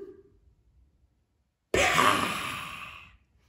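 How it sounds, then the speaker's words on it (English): One deep, drawn-out breath, close and fairly loud, starts abruptly after a near-silent moment and trails off over a second or so, with no talk. "Let's take in a big breath."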